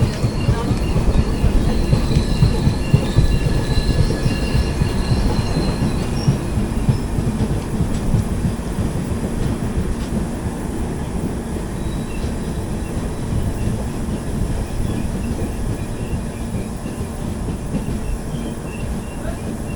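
An express passenger train in AC Economy, the 16381 Pune–Kanniyakumari Express, rolls away from Palakkad, its wheels rumbling steadily along the rails with a continuous loud, close clatter and faint squeal throughout.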